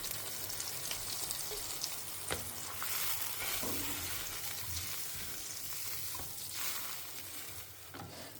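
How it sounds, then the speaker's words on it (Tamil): Tamarind water with turmeric powder bubbling in a pan on the stove, a continuous soft hiss and gentle simmer heard close, with occasional light clinks and stirring noises and no voices. "கொஞ்ச நேரம் புளி ஜலம் பச்சை வாசனை போகிற வரைக்கும் கொதிக்கட்டும்."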